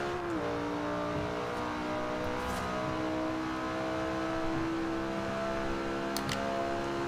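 A 2011 Lamborghini Gallardo LP570-4 Superleggera with all-wheel drive launches in the racing game Forza Horizon 2, its engine holding a steady loud drone that dips briefly early on and then climbs gradually, with no voices over it.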